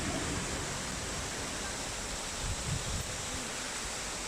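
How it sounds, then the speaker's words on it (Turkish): The 20-metre Kuzalan waterfall in Giresun, set among green forest, gives off a continuous, even roar of rushing water with no other sounds over it. "Burası 20 metre yüksekliğinde Giresun'a bağlı Kuzalan Şelalesi."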